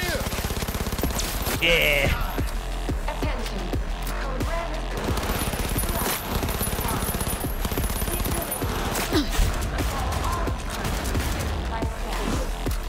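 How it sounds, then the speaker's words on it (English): Sustained automatic gunfire and SMG bursts in the video game Cyberpunk 2077, loud and dense throughout with scattered impacts, and a voice shouting briefly over the shooting. "I am taking fire!"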